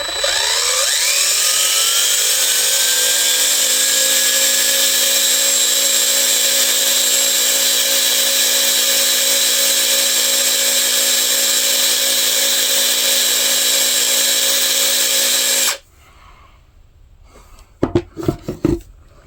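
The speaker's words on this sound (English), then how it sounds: "Got this chucked in the drill. Now let's just get to cleaning it up." A power drill spins a cleaning attachment against a vintage saw part, a loud continuous high-pitched whine that ramps up at the start, holds steady for about fifteen seconds, then cuts off, followed by a few quiet clicks and knocks.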